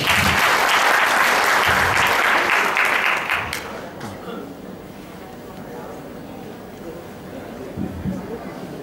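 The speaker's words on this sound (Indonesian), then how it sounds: "Tepuk tangan buat Tuhan." Clapping from a church audience at a testimony gathering rings loud for about three seconds, then fades out, and murmuring voices and low room sounds take over.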